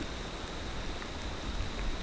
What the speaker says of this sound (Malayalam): മഴയും വെയിലും എല്ലാം കൂടെ ഒരുമിച്ചല്ലേ